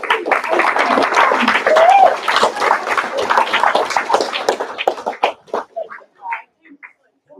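An audience applauds after a thesis defense, a dense burst of clapping mixed with chatter and voices that thins out into scattered claps toward the end.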